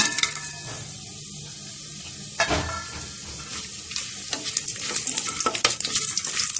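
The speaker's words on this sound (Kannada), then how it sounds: "ಬಿಸಿ ಆದಾಗ ಈ ಪ್ಲೇಟಲ್ಲಿ ಏನು ಮಸಾಲೆಗಳು ಇಟ್ಕೊಂಡಿರ್ತೀರ ಎಲ್ಲನೂ ಹಾಕ್ಬಿಡಿ." Whole spices hitting hot ghee in a pan for egg biryani, a bright crackling sizzle that builds to sharp pops and spatters, with a few utensil clinks against the pot, no voices.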